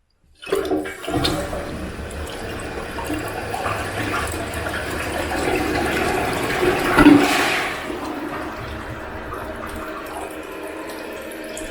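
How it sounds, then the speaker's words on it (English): A high tank toilet flushes with a gurgling rush of water. It starts gently, builds to a strong surge about two-thirds through, then settles into a softer refill trickle, heard up close with no talking. "I would say that's flushing pretty good."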